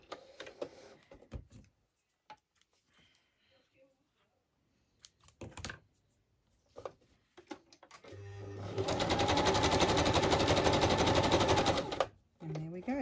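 A sewing machine runs a close, rapid stitching burst of about four seconds through a journal made from a book, after a stretch of quiet handling clicks and faint sparse speech.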